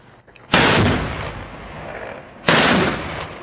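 Two heavy 23mm cannon blasts boom close by, each a sharp loud report trailing into a rumbling echo, about two seconds apart.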